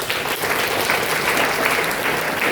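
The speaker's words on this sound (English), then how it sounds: "I need a big round of applause." Audience applause fills a career guidance session for science-stream school students, a dense, steady clapping from a sizable crowd sustained at even loudness with no break.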